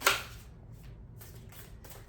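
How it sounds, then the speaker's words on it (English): Tarot cards are shuffled by hand, a crisp riffle at the start followed by softer intermittent card flicks and slides, close and quiet in a still room. "I'm just going to keep shuffling."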